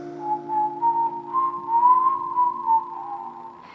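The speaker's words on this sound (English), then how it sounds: "Whistle test." A person whistles a wavering, slightly rising tune alone over a low steady hum, close and clear, the notes sliding and pulsing for a few seconds.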